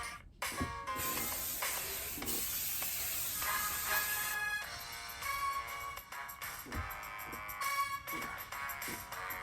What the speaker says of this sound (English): One last spray. Always gotta have the last spray.